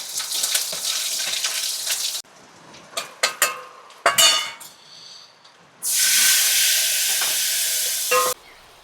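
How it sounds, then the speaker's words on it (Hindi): Tadka tempering hitting dal with a loud hissing sizzle, in two bursts, the second long and sustained, separated by stirring, clinks of a metal pot and spoon, and a quieter pause. "ये दाल में तड़का लग गया।"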